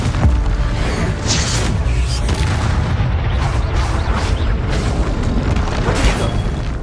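Confringo fire spell blasts in the Hogwarts Legacy video game: continuous loud booming explosions and crackling bursts in a dense, relentless battle mix with no pauses.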